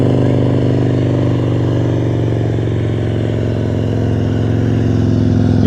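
Motorcycle engine held at a high, steady rev during slow-speed riding practice, throttle too high, a loud continuous drone with a mid-range hum and no clear rise or fall, close by and running alone throughout.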